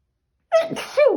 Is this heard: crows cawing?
no